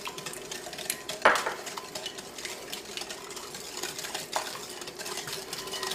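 Brownie batter of melted chocolate and freshly added eggs being mixed in a bowl, with a continuous wet stirring scrape, utensil clinks against the bowl and one sharp knock early on, close and even.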